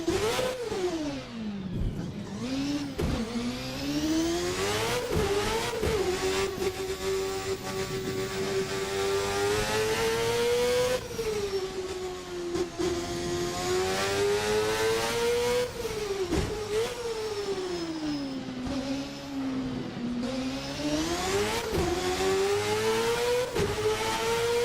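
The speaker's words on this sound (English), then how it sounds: "The engine's starting to complain a little bit." A simulated 1999 Formula North America race car, around 980 horsepower, revs hard and continuously, its loud engine note rising and falling through gear changes with brief dips, no talking over it.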